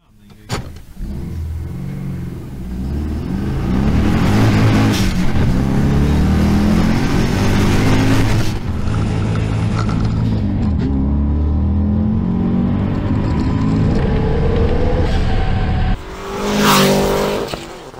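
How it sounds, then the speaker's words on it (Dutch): A modified Volkswagen Beetle approaches from a distance with a loud, throaty engine, revving hard as it speeds past close by. The engine note holds high, dips briefly, then surges again near the end, and the tires squeal. "je ziet een Kever aankomen in de verte, maar met een heel ander geluid"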